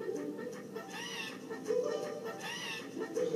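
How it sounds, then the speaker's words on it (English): Shrill, squawky cuckoo clock birds in Skylanders: Trap Team chirp in a few repeated bursts over a steady low background. "For many years, I've trained these birds to sing."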